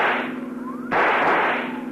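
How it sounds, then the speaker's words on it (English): A single sharp rifle shot fired from a moving car during a radio-drama chase, cracking loudly over a steady engine and road hum. "See if you can use that rifle, Dollar."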